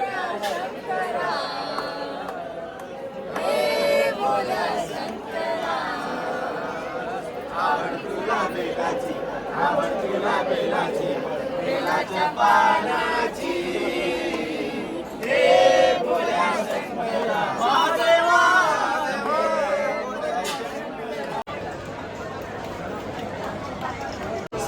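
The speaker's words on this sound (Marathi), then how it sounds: "बघा गर्दी बघा." Dense crowd chatter fills the queue at Trimbakeshwar temple in Nashik, a steady murmur of many voices with occasional louder calls rising above it throughout.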